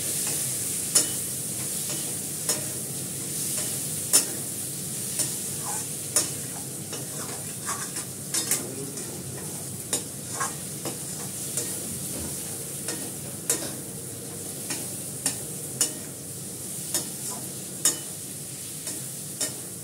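A curry of potatoes simmers in hot oil, sizzling softly and constantly while a spoon scrapes and taps against the pan in regular, repeated strokes, with no voices.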